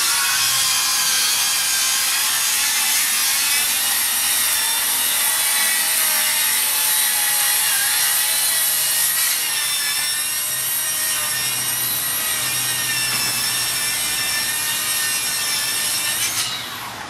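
Makita rear handle circular saw ripping pink H1.2 framing timber, a loud continuous high whine of the blade biting through the wood, steady for the whole cut with slight pitch dips as it loads, then a brief run-down at the end.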